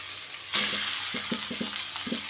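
Fried fish sizzles in a pan as cabbage paste is added, giving a loud, steady hiss broken by soft clinks and stirring scrapes.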